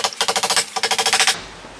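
Quick hammer blows drive nails through a small hammer guide into wood while mounting an electrical box in an office addition, about a dozen sharp even strikes in two bursts, then stopping.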